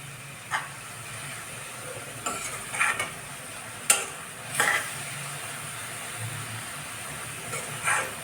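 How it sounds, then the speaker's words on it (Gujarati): Bhaji greens sauté in a pan with a soft, constant sizzle, broken by a handful of scraping stirs and clinks at irregular moments, fairly close and with no talk. "એક બે મિનિટ આવી રીતે સાતળીએ"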